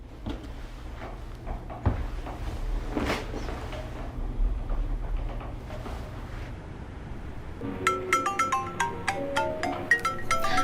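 A phone ringtone begins partway through with a bright, repeating melodic pattern, after a stretch of quieter indoor handling sounds and light knocks.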